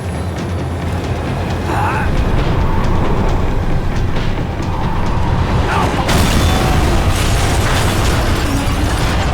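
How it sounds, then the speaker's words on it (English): A tram slowing down in the game Max Payne 3: a loud, steady mechanical rumble with rattling rail noise runs throughout, with some sharp bursts and faint voices mixed in. "The tram was slowing down"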